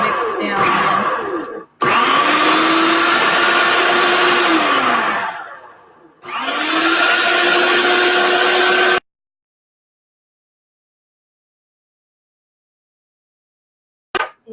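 A kitchen blender runs in loud whirring bursts as food is pulsed, the motor dropping away between pulses and revving up again, then going silent, with one short blip near the end.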